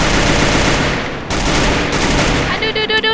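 Rapid automatic gunfire rattles in a dense, loud burst during a Free Fire battle royale match, easing slightly before a few separate sharp shots at the end.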